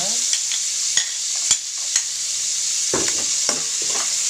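Garlic, onion and ginger fry in a pan for ginataang paksiw na isda, a steady close sizzle broken by several sharp stirring scrapes and clinks, with no talking.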